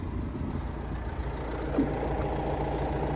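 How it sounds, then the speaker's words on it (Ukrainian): A 2017 Opel Vivaro 1.6 CDTi diesel engine idling smoothly, a continuous low rumble with a slight rise in the middle, and no talking. "Гарно завелась машина."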